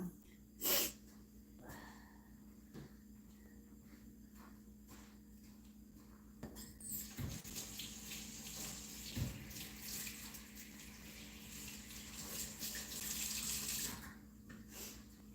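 Tap water runs steadily into a sink while green onions are rinsed under the stream, with a louder, fuller flow in the second half and a few faint knocks and handling noises.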